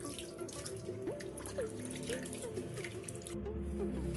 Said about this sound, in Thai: ใส่น้ำนะคะ